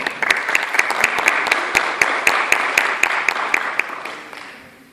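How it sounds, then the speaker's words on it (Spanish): An audience applauds at an academic debate event between psychology and communications schools, with a few sharp, distinct claps standing out near the front over the wider clapping, which fades away at the end. "Un aplauso, por favor"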